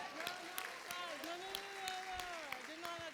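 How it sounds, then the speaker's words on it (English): A conference audience claps in a steady wash, with voices carrying over the applause throughout. "Let's give Anastasia a round of applause"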